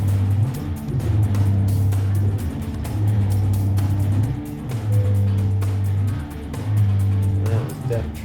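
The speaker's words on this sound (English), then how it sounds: "That was a damn truck." Truck engine droning in Euro Truck Simulator 2, a loud low hum that rises and falls in repeated gear-shift cycles, as if accelerating down a road, with someone talking over it.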